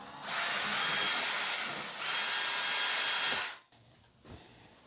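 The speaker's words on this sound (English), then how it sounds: "So basically you have your drill, and anytime you're drilling through drywall" A power drill bores through drywall in two loud, sustained bursts of high whine with a brief dip between them, then stops abruptly, leaving faint handling noises.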